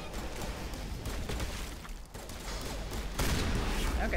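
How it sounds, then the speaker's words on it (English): Shotgun blasts in the video game Mass Effect, rapid booming gunfire bursts in dense, loud game combat with a heavier blast near the end. "Shoot a shotgun."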